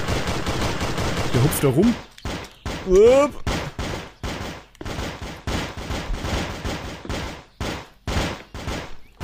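Gunfire in the pixel shooter Cube Life: Pixel Action Heroes: a rapid series of sharp, evenly spaced shots firing loud and close, with someone talking briefly at the start.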